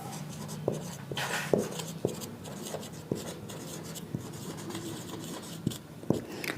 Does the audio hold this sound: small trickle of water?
no